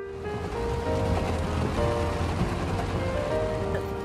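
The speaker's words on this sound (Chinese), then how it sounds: "下着大雨" Heavy rain pours down steadily in a dense, even hiss of drops striking surfaces, loud and close with a low rumble beneath and no talking.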